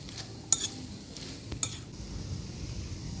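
A utensil stirs a prawn and vegetable salad in a bowl with a soft, steady wet rustle and two bright clinks against the dish, close by and with no voices.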